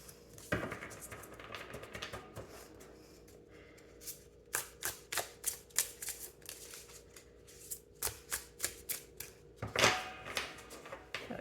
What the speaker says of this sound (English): I will give this a shuffle